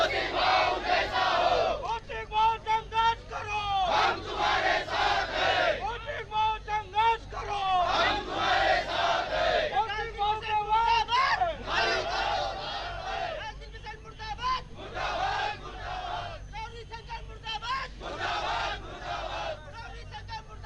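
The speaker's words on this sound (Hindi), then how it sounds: "गौरीशंकर बिसेन और ढाल सिंह बिसेन मुर्दाबाद के नारे लगाए जा रहे हैं" A large crowd of BJP workers chants protest slogans outside a party office in Balaghat, loud rhythmic shouted bursts repeating in waves with short pauses between.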